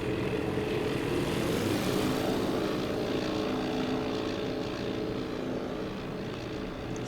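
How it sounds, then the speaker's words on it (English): Propeller engines of a flight of B-17 bombers taking off from a Midway seaplane base in the Task Force Admiral game, a steady, loud multi-engine drone that holds throughout and eases slightly toward the end. "So it looks like they've got 20 B-17s that are sortying."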